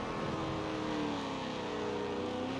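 A car drifts in the racing game Forza Motorsport 7, its engine a steady, loud, continuous drone with shifting tones as it holds the slide, with no pauses throughout.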